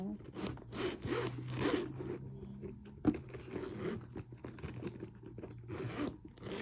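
A zipper on a handbag with a Louis Vuitton logo is pulled open in a few rasping strokes, close and fairly quiet, with faint rustling between pulls.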